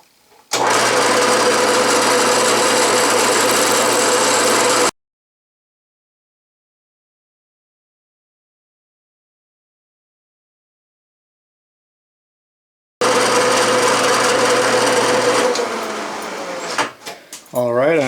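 A set screw being drilled out with a 1/8 inch carbide bit gives a loud, steady mechanical whine. It runs for several seconds, cuts to silence, then resumes and winds down.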